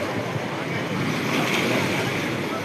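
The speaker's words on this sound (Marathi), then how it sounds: "किती भयंकर पाणी आहेत, किती जोर आहेत पाण्यात." Rough sea surf surging and crashing close by in a steady, loud roar, with wind buffeting the microphone throughout.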